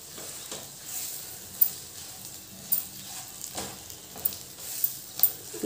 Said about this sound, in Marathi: आता हे सर्व एकसारखं व्यवस्थित हलवून घेऊया.